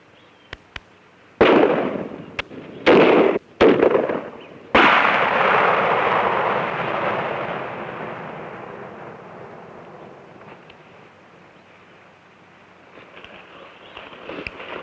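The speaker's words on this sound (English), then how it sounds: "now you know what a 410 can do, and it's the smallest of all the shotguns" A .410 shotgun fired outdoors, several sharp close blasts in quick succession, with the last shot followed by a long rolling echo that fades slowly.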